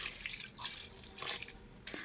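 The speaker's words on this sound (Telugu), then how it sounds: "చింతపండు పులుసు పక్కన పెట్టుకున్నాం కదా అది పోసు పోసేసి పోయాలి" Tamarind juice poured into a pot, a quiet splashing, trickling flow of liquid with a few drips, heard close and alone.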